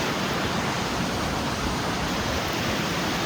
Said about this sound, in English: I have no idea if you can hear me with the roar of the water.